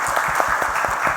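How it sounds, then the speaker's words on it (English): Short spell of audience applause at a robotics conference session in Pune, a steady patter of many hands clapping with no voices over it. "a big round of applause for the ma'am"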